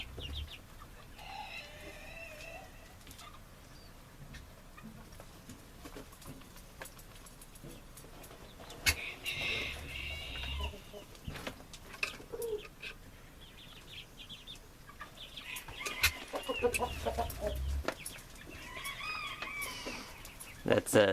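Orloff hens clucking and squabbling near a group of chicks, with scattered calls and chirps over background rustle, a few louder bursts mid-clip and toward the end, while someone speaks quietly underneath.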